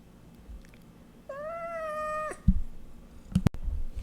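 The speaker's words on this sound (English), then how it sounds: "And that is my little kitten Maverick, if you hear him" A kitten gives a single drawn-out, high meow lasting about a second, close by, followed by a couple of soft thumps.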